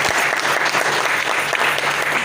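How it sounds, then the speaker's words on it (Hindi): Seminar audience breaking into loud, continuous applause, a thick wash of many hands clapping at once, sustained and close. "इसलिए तालियां आप जोरदार बजाइए।"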